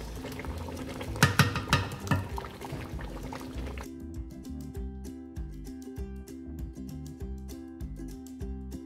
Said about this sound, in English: I'm going to add in my blended spices and the blended carrot